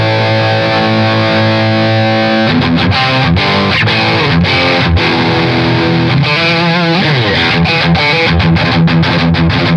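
A G&L Doheny electric guitar plays through an amp's distortion channel, loud and saturated, with sustained chords that break into choppy, rhythmic muted strums and a brief bending phrase.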